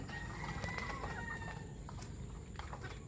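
A White Kelso hen named Buttercup clucks softly while wanting to lay eggs, with low, steady murmuring clucks over farmyard background noise, fairly close and without anyone speaking.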